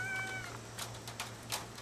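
A cat meows several times, a few short, moderately loud calls spaced out over a steady low mains hum, coming from a cat shut in a room and trying to climb a screen to get out.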